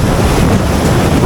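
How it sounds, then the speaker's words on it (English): An ocean wave crashes onto a coastal rock as a loud, continuous roar of surging water, heavily mixed with buffeting wind noise on the microphone. "Gonna wait for a big wave to splash over that rock."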